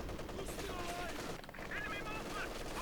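Machine gun fire from a WWII real-time strategy match, a rapid rattle of automatic bursts aimed at a conscript infantry squad, running continuously beneath a commentator's voice.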